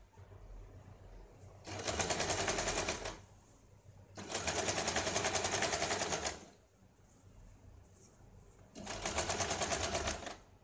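A sewing machine stitches along the very edge of the canvas on a blouse, running in three loud, steady bursts of a second or two each, separated by short quiet pauses.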